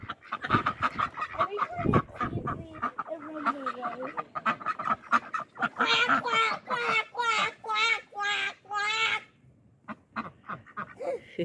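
Ducks quack loudly in a rapid run of nasal calls near the listener, mixed with clucking chickens on a farm with pigs, while people talk at moments in the background.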